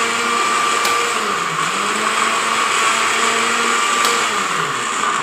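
An electric blender grinds ginger and garlic with oil into a paste, running as a loud, continuous whirring drone. Its pitch wavers slightly as the contents churn, with no voices over it.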